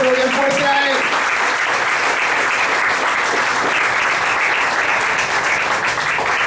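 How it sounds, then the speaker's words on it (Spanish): Sustained, loud applause from a church congregation, with dense clapping throughout and a voice speaking briefly at the start over it. "Dáselo un aplauso y dáselo bien fuerte a él"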